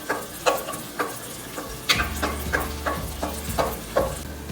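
A spoon scrapes and clinks against a pan while aloo egg curry is stirred, landing in a steady series of sharp ticks over a soft, constant sizzle.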